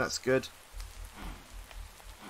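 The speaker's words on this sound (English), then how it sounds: "The rain sound is awful." Rain patters steadily in the Minecraft modpack Valhelsia 2, a soft continuous hiss of drops with a low rumbling undertone, while someone briefly speaks at the start.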